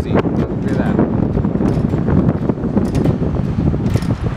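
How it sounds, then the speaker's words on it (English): Strong wind roars and buffets the microphone continuously, a loud, rough rumble with no break. "It's so windy out here."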